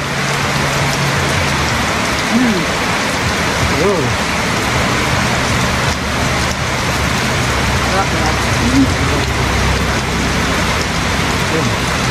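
A heavy December downpour drums on a home's roof in a dense, unbroken roar that stays loud and even throughout, with faint voices now and then beneath it.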